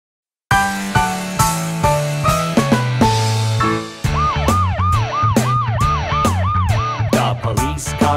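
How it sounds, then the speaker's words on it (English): A cartoon police car siren in an animated children's song wails in repeated rising-and-falling swoops over bright, bouncy music with a steady beat. "The police car patrols the town and town."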